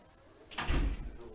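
A door opens or closes with a sudden thudding knock and a brief rattle, close and fairly loud, then a short sliding settle in an otherwise quiet room.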